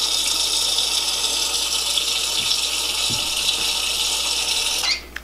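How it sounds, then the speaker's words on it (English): A video game sink faucet gushes loudly and steadily, filling the space with a broad rush of running water that cuts off abruptly near the end. "I'm gonna give him some water. Turn on the sink."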